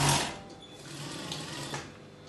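A sewing machine stitches a dress sleeve for a circle skater dress, a short, quiet mechanical whir running for about two seconds with no talking.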